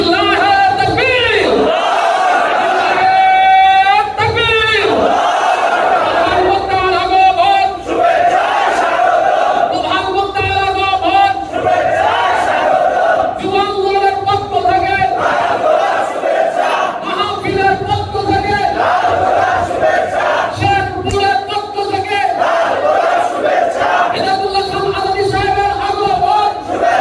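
A large crowd at an Islamic youth movement sermon gathering roars the takbir in unison, about half a dozen loud, drawn-out chanted responses in steady rhythm that fill the space one after another.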